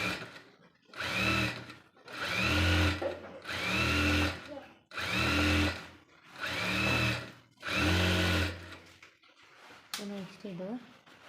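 A sewing machine stitches lining onto a blouse sleeve in six even bursts of close, whirring motor hum with short pauses between them, and a voice follows at the end.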